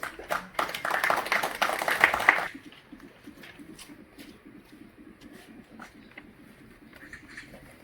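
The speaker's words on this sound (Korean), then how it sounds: "박수로 모시겠습니다" Applause welcoming a speaker at a Buddhist youth association anniversary service, a short burst of clapping that stops abruptly after a couple of seconds, leaving a quiet room with faint background noise.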